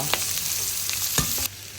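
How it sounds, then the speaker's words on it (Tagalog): Pork and tomatoes sauté in a hot pan for munggo, a continuous sizzle with a few scraping stirs of a utensil, close and fairly loud, no voices. "Tapos, gisa-gisa lang ulit ito."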